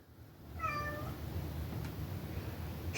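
A pet cat lets out a single clear meow, close and fairly loud, while trying to climb something beyond her reach, then the room settles into low background hum.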